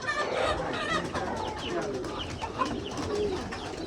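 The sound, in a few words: pigeons cooing on a rooftop farm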